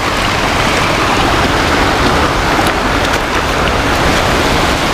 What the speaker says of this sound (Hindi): ये है वसुंधरा वाटरफॉल